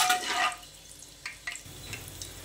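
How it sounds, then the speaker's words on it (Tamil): Black pepper splutters in hot oil on a medium flame while tempering ven pongal, a loud frying hiss at first that thins into scattered, close crackles and pops. "மிளகு சேர்க்கவும் வெடிக்கும், கொஞ்சம் மீடியம் ஃப்ளேமில் வச்சுக்கோங்க"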